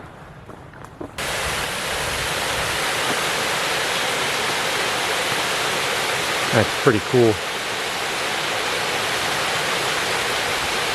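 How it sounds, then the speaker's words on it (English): Forest stream in Stokes State Forest, New Jersey, with water pouring through tree roots, a steady rushing close by that holds level throughout, briefly under a man's remark and a short knocking near the middle. "It's really neat how the water is coming through the tree roots like that."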